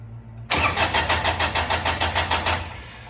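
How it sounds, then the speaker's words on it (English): A Daihatsu diesel engine cranks loud and close on a repaired Briggs starter, a sudden start followed by about a dozen rhythmic turning pulses that fade slightly without catching. "Let's see if we got crankage."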